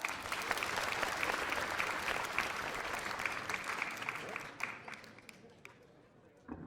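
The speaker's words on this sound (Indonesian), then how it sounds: "Tepuk tangan buat Iwan." An audience applauds a boy named Iwan at a magic show, a steady crowd clapping that fades near the end, leaving a few scattered claps and faint voices.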